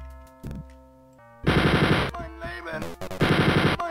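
Blue gun in the Wolfenstein 3D video game fires in two loud, rapid bursts of rattling shots, separated by a short pause, over blippy game sounds.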